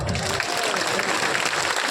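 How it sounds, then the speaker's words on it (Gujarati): Crowd applause at a Thakor community gathering in Deodar, a dense steady wash of many hands clapping at once, fairly loud and continuous throughout with no break. "ત્યાં કઈ તાળીઓ પાડો"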